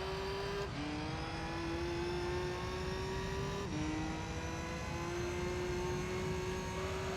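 Race car engine in Gran Turismo 3 during an all-wheel-drive prize car race, sliding through turn one: a steady engine note that climbs and drops at two gear shifts, heard alone without commentary.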